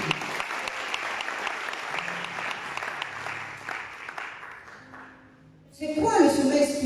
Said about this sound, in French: Tu peux acclamer pour le Seigneur.